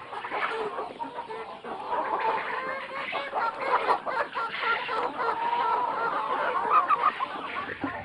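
Ornamental chickens on a farm cluck and squawk continuously, a busy flock close by with overlapping calls and a few sharper cries, no talking.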